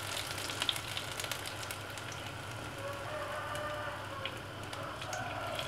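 Minced pork omelet frying in hot oil, giving a steady dense sizzle with faint crackles and pops throughout, close and unbroken.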